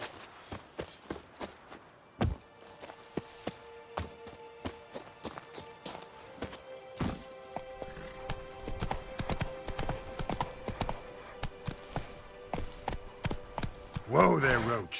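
Roach, the horse in Witcher 3, clip-clops along with steady, close hoofbeats that quicken into a denser trot, and the horse snorts or whinnies briefly near the end.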